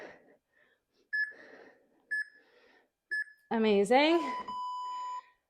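Short electronic beeps sound at a steady pace, three evenly spaced tones, followed by a person's drawn-out exclaimed voice over a lingering high tone.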